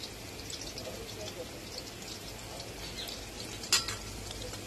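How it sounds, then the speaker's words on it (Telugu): Chicken pakoda frying in oil over a medium flame: a soft, steady sizzle with occasional stirring scrapes and one sharp utensil clink, heard close but fairly quietly. "మీడియం ఫ్లేమ్లోనే ఉంచి కుక్ చేస్తున్నాను నేను కూడా. ఇవి బాగా ఫ్రై అయ్యాయండి"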